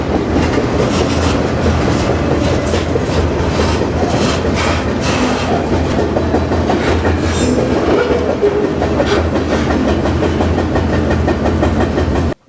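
A grain freight train rumbling past at close range, loud and continuous, with rhythmic wheel clatter and occasional metallic squeals before an abrupt cutoff.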